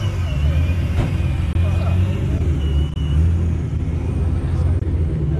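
Supercharged Mopar cars cruise along a highway, their engines and road noise forming a loud, continuous rumble with brief dips, while voices speak over the traffic.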